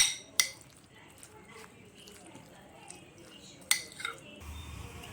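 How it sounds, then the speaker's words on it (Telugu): Avocado is mixed with chilli powder in a bowl. A spoon clinks sharply against the bowl twice over faint, soft stirring and scraping, close up. "సో దీన్ని మొత్తం మనం మిక్స్ చేసుకోవాలి"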